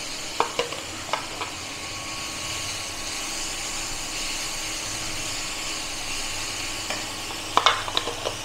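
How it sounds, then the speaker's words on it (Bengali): Sliced onions frying in hot oil with black cumin seeds in a pan for a Bengali fish curry, a steady soft sizzle throughout with a few sharp clinks and scrapes of a spoon stirring near the start and end. "পেঁয়াজটা একটু ভেজে নেব গোল্ডেন কালার করে"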